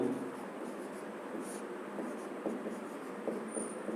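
A topic title being written on a classroom board, with faint intermittent scratching strokes under a steady room hiss.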